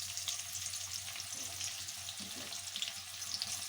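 Chopped onion sizzling in hot oil in a kadai while making a radish curry, a steady crackling hiss of frying held throughout, with faint kitchen clatter and no talk.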